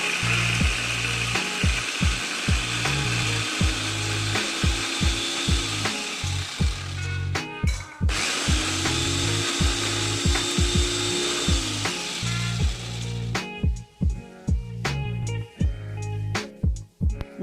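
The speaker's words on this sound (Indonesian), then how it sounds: "kita blender dulu ya semua bumbu dan kita haluskan." Kitchen blender grinding spice paste for Palembang laksan, a loud, steady motor whir that rises in pitch in two long runs and stops abruptly between them, with rhythmic knocking of ingredients against the jar.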